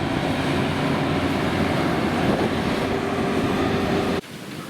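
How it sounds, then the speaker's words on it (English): Two 6-car Regiolis hybrid train units with roof-mounted diesel motors depart Noyelles for Calais, a loud steady diesel drone and rail rumble close by that cuts off abruptly near the end. "two 6-car Regiolis hybrid units leave Noyelles for Calais"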